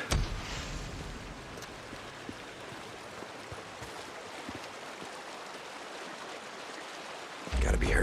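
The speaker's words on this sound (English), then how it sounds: "Maybe down by the creek." Creek water in the video game Days Gone rushes in a steady, noisy flow for several seconds, fairly close and without any talk, then ends with a brief louder shift at the end.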